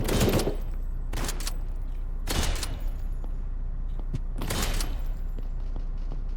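Gunfire in the Fortnite video game, several sharp shots spaced a second or so apart with fainter pops between, loud and close over a steady background hum, no voices.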